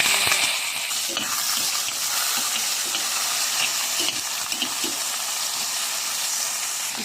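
Tomato and onion sizzle in hot oil in a kaserola after garlic, a steady broadband frying hiss with scattered stirring clinks throughout, close and fairly loud, with no talk over it.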